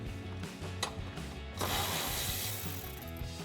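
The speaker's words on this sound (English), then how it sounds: "we're going to grab a 10mm socket and we're going to remove this bolt here" A ratchet turning a 10mm socket to remove a bolt from a 2022-2023 Toyota Tundra bumper, rapid close clicking in short bursts with a pause before a longer run of clicks.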